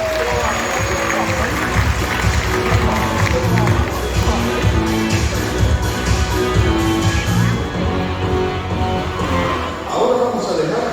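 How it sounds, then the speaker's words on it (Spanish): Audience applause and cheering at a Loro Parque marine animal show, a dense steady wash of clapping and crowd noise from a large outdoor stand, loud and continuous throughout. "Un fuerte aplauso para Tab."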